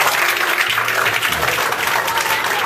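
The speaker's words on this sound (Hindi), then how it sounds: "जोरदार तालियों से" A school audience claps loudly for a winning student at a classroom quiz event, a dense steady burst of applause that runs throughout and cuts off at the end.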